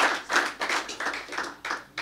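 A small audience claps for a football club captain and sponsor, giving a short burst of uneven hand claps that comes in bunches. The room is close and a bit reverberant.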